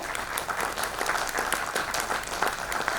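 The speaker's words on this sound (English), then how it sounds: "Can you all clap for her?" An audience at a women leaders' award ceremony in Goa claps steadily and densely throughout, a continuous crowd applause with no speech over it.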